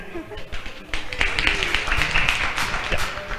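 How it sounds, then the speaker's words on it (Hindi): Audience clapping at a radio convention in Delhi, a crowd of hands clapping through the stretch, fairly loud and dense, with a few voices and murmurs mixed in beneath. "तालियां हो जाए"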